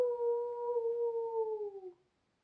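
A single sustained howl, smooth and clear, holding its pitch then sliding slightly downward before stopping abruptly into silence; a human voice imitating a wolf in a children's story narration.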